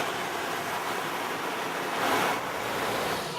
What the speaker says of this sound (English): So this is our rain chamber tester. Don't be deceived by its looks. It's actually very high tech. It uses lawn sprinklers.